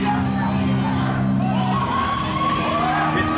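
Pro wrestling crowd cheering before a trios tag team match, a dense roar of shouts and whoops with a commentator talking over it.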